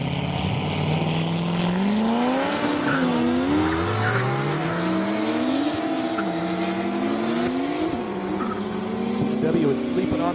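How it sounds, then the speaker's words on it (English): A Corvette Grand Sport and a BMW 135i race down an airstrip, engines revving hard through repeated rising gear sweeps with tire squeal, loud and continuous under a commentator's talk. "Tom Kilhofer in that Grand Sport. Patrick Kennedy in that 135i."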